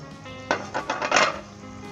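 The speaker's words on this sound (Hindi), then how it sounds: "अब हम इसके अंदर दाल डालेंगे" Chana dal tipped into a cooking pot for a bitter gourd curry makes a close, brief clatter and rattle lasting about a second against a quiet background.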